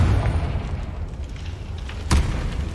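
The Confringo fire spell explodes in Hogwarts Legacy, a single muffled boom hitting sharply near the end over a low rumbling game backdrop.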